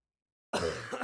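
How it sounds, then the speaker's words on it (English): A single harsh, rough cough from someone with bronchitis bursts close into a microphone after half a second of silence. "I apologize for coughing into my microphone"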